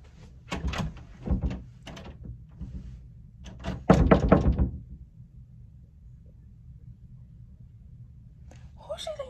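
Knocking on a locked door, two clusters of heavy thumping raps close by with a pause between, followed by quiet room tone and brief voices at the end.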